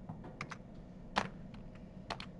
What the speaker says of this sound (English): I don't have to keep typing that in.